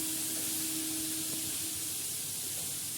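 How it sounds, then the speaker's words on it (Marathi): Sliced bitter gourd frying on a hot tawa gives a steady, broad sizzling hiss as a little water is poured in, moderately loud and uninterrupted throughout with no talking. "आता याच्यात थोडंसं नॉर्मलीने आपण पाणी टाकणार आहोत."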